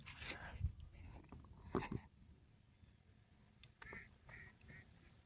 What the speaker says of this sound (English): That sounded like a duck. That was definitely a duck.